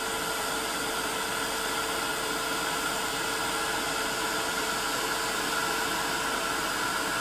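Heat tool blowing steadily to melt embossing powder on a card, a constant even rushing hiss of hot air held close throughout with no breaks.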